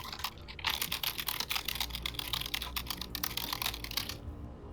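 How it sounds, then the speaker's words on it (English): A mechanical keyboard being typed on up close, a rapid irregular stream of crisp clacking keystrokes that runs for several seconds and then stops. "Mechanical keyboard."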